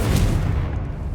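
Confringo fire-blast spell cast in Hogwarts Legacy, heard as a loud, sustained low boom with a rumbling, broadband roar that lingers at a steady level for the whole moment, with no talk over it.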